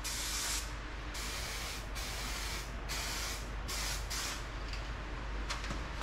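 Aerosol spray paint hisses in repeated bursts as an aluminum-colored coat goes onto a 1963 Corvair car part, with several short sprays separated by brief pauses, close and fairly quiet.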